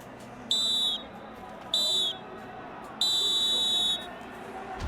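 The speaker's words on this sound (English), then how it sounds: "So there we go, final whistle." A referee's whistle ends a Kings League football semifinal in three sharp blasts: two short toots, then a longer one of about a second, shrill and clear above a steady crowd murmur.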